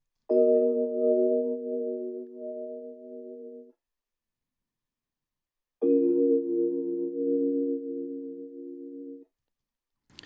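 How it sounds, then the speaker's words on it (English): RnB sample run through the Reels tape emulation plugin on its chorus full preset: two long, slightly wavering chords with a gap of silence between them, loud and alone, ending on a brief click. "And then we added this tape emulation plugin called Reels with the chorus full preset"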